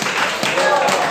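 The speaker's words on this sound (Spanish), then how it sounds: "Dele otra fuerte alabanza al Señor con sus palmas" Congregation clapping hands in praise to the Lord during a church service, a fast, dense patter of palms mixed with voices calling out.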